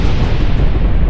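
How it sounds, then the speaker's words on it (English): An explosion sound effect bursts as a loud, dense rumbling blast that holds for about a second and then cuts off abruptly. "I want an explosion behind me so I can stand here and look cool as it explodes"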